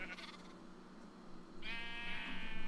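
A single drawn-out sheep bleat from the video game Minecraft, faint at first and growing louder, heard alone without talk.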